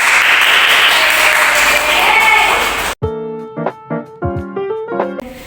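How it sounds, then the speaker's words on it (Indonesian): Children in a primary school maths class clap together in a loud, dense burst for about three seconds. It cuts off abruptly and is followed by a bright electronic chime melody of clear ringing tones. "Sekarang tepuk tangan untuk kita semua."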